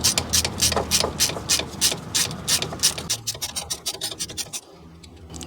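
Rapid ratcheting clicks from a nut grip socket on a wobble extension backing out an alternator bolt on a Toyota Sienna 3.5L V6 2GR-FE, a close, steady burst of ticks that slows and then stops near the end.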